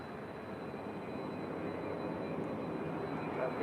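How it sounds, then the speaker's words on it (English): A four-year-old Virgin Atlantic Boeing 787-9 Dreamliner on short final into LAX, arriving from London Heathrow, gives a steady, loud broadband jet roar that holds level throughout with no pauses. "short final is Virgin Atlantic Flight 23 coming in from London Heathrow. It's a 4-year-old Boeing 787-9 Dreamliner."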